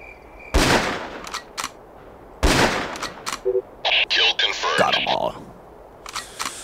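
Gunfire in the video game Ghost Recon: two heavy rifle shots, separated by about two seconds, are followed by short rapid bursts of automatic fire, with voices speaking between the shots.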